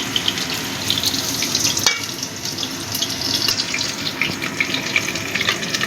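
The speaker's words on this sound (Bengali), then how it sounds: "এবার আমি প্রথমে পেঁপেটা ভেজে নিচ্ছি।" Papaya pieces fry in hot oil with a dense, hissing, watery sizzle that carries on throughout, plus scattered crackles and one sharp tap near the middle, heard up close without speech.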